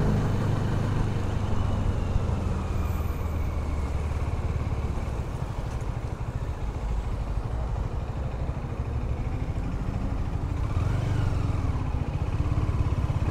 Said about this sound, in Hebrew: אני הרבה יותר אוהב את הרעש של המנוע הזה